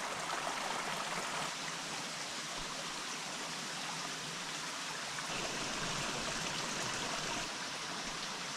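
Running water of a mountain stream rushes steadily and continuously, a close, even broadband wash with no talk or other sounds over it.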